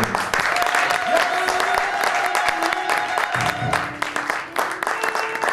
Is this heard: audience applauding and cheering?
yes